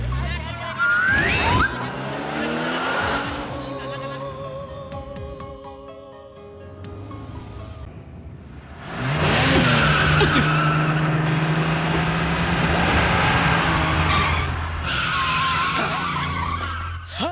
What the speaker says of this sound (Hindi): तुमने टाइम पे ब्रेक मार दिया वरना एक्सीडेंट हो जाता